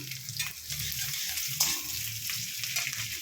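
Chopped garlic and slit green chillies sizzling in a frying pan for an egg curry, a continuous close hiss of hot oil with small crackles and stirring movements.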